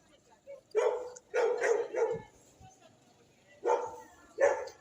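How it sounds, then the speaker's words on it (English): A big collie dog barks a few times from a short distance, in irregular single and paired barks with quiet gaps, while a person talks. "a big doggy barking over there actually"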